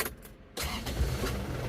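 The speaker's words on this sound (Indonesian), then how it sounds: "kita akan mencoba teman-teman mobil ini kita hidupkan" A car that has just had its engine overhauled cranks briefly, falls silent for a moment, then catches and settles into a steady low idle, heard close with no talking.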